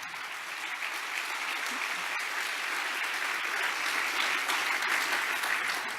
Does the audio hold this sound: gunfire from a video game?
no